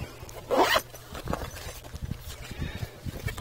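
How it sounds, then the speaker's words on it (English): Zipper pulled shut on a fabric shotgun adapter case, one quick close zip in a quiet room, followed by faint handling rustles. "so if you zip it up"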